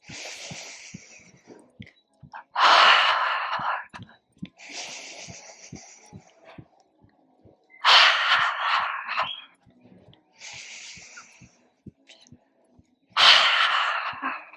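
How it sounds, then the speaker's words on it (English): Deep, slow breathing during a yoga body-awakening exercise: three long, loud breath cycles with full inhales and exhales, spaced several seconds apart, with quieter breaths and faint background between them. "Three more breaths."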